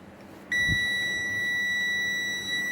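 Multimeter in continuity mode on an overvoltage and undervoltage lab circuit, a single steady high-pitched tone that switches on abruptly and holds loud and continuous to the end.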